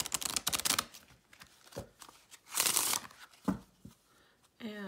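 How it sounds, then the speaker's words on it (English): A playing card and oracle deck is riffled and shuffled close up in several quick bursts of crisp flapping and snapping, separated by short pauses, with a brief voice at the end. "so they shuffle really nice, just like playing cards would"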